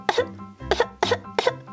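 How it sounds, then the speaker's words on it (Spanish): A child coughs four times in a steady rhythm, each a short double-burst cough, close and fairly loud with brief pauses between. "¡Vaya tos tiene mi niño!"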